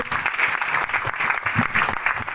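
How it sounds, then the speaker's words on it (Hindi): Vigorous applause from an audience at an award ceremony, a dense, steady clatter of many hands clapping close by throughout, with no clear talking. "जोरदार तालियां होना चाहिए हमारे साथ"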